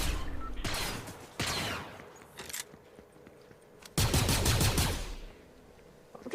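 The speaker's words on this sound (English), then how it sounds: "I've just had shots from a place where I don't even know where they are" Fortnite gunfire cracks out in bursts, with fast rapid-fire volleys and separate single shots between quieter stretches and a few shuffling footsteps, all fairly loud and close with no speech.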